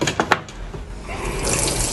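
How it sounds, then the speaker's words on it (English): Water running from a kitchen tap, a steady hissing splash with a few louder spurts at the start, close and fairly quiet, with no voices. "Sonia Lawrence now uses kitchen tap water"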